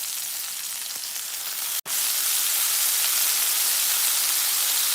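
Constant loud sizzle of soy sauce hitting a hot frying pan with sesame oil while making shrimp fried rice, a steady hiss broken only by one sharp click near the start.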